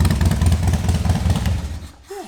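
A Harley-Davidson Wide Glide engine idles on choke, a loud, close, lumpy low throb with a steady uneven pulse that fades near the end, while someone talks over it.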